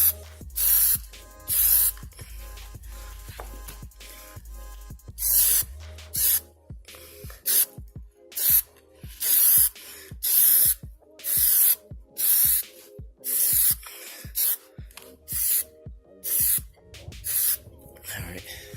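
Plasti Dip sprayed from an aerosol can onto a Honda Civic: a series of short, loud hissing bursts in a choppy rhythm, close by, with quiet gaps between them.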